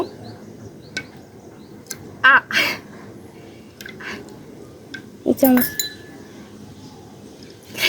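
A sun-fried egg being pried off a pan on a rooftop in 42°C heat gives a few sharp metallic clinks and scrapes, spaced apart over a quiet background.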